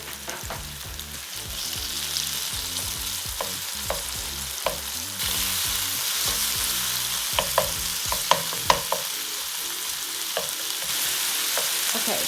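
Pork and eggplant stir-fry in a hot pan with a continuous sizzle and repeated scraping, clattering strokes of a spatula, the hiss growing a little fuller partway through.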